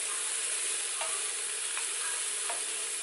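Chopped peppers cooking in a hot pan give off a steady, loud sizzle that runs unbroken throughout, with a few faint stirring clicks and no voices.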